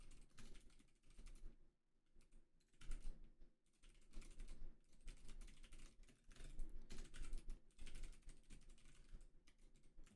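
Someone types steadily on a computer keyboard, a dense, close clatter of key presses in uneven bursts with brief pauses, continuing for about ten seconds without speech.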